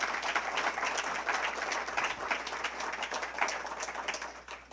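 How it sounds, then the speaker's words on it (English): A fundraiser audience claps in a sustained round of applause, moderately loud and continuous, then gradually thinning toward the end. "Let's give him another round of applause,"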